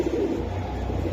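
Chinese high-flyer pigeons give a short burst of low, throaty cooing at the start, then fade under a steady hum of background noise.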